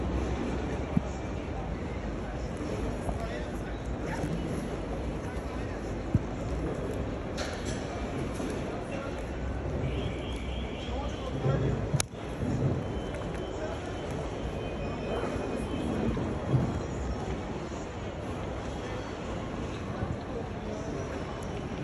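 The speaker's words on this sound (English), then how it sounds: "İstanbul National Airport, Turkey." Busy terminal ambience at Istanbul airport in Turkey: a constant broad rumble of crowd and machinery, with distant aircraft noise, occasional clacks and a sharp knock midway, and people talking throughout.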